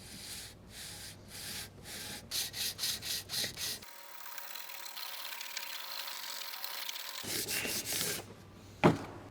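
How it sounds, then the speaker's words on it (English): Hand sanding of the aluminum BMW logo letters and stripes on a V12 BMW 850CSi, heard as a run of rhythmic rubbing strokes, then a steadier continuous scrub, with a sharp knock near the end. "Now we gotta sand the surface and bring out brushed aluminum finish on the stripes and the BMW logo"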